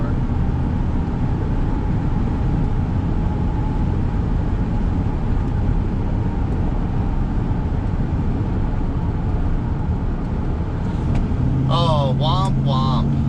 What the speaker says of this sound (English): And it took like no throttle at all to get up to 70 miles an hour.